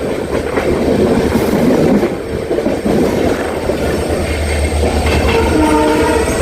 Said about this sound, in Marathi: आणि आमचं एक लोकल सुद्धा फास्ट लोकल